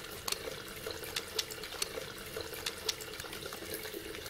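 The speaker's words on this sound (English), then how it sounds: "Wet your hands under warm running water and add soap." Warm tap water running from a faucet into a sink during handwashing, a steady soft splashing with small drips and spatters, close and fairly quiet, with no voices.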